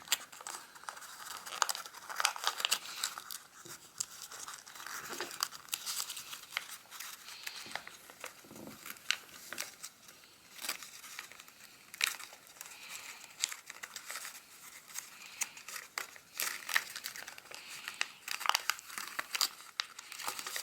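Paper being creased and folded into an origami hummingbird, close and quiet, with steady crinkling and rustling that runs on unbroken.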